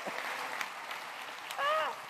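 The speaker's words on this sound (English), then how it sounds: "And a round of applause because Matt's parents are here." Applause from the crowd at a public community impact hearing in New York City: a steady, moderately faint patter of clapping, with a short voiced cheer rising above it near the end.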